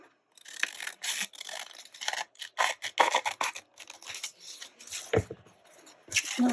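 Scissors snipping through the flap of an embossed paper envelope during a craft project, a run of close, crisp cutting and rustling strokes with brief pauses.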